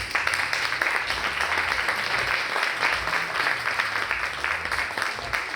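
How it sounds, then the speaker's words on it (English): Festival crowd at the Louisiana Shrimp Festival applauding panelists, a steady, fairly dense clapping that holds at moderate loudness throughout, with faint background murmur. "I'm going to give a round of applause to our panelists"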